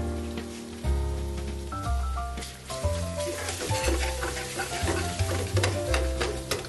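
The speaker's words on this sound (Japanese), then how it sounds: "軽くちょっと油分の中に入れて炒めてあげる感じですよね。" Tropea red onion and fresh chili stir-fry gently in oil over low heat, a continuous soft sizzle and crackle with occasional stirring, heard under steady background music.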